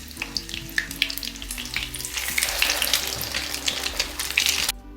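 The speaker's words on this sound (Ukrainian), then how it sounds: "І смажу на маленькому вогні з обох сторін." Semolina patties with cheese filling sizzle and crackle steadily in a pan over low heat, close by, the frying growing louder midway before cutting off abruptly near the end.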